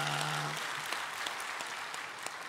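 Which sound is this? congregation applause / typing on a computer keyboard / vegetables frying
congregation applause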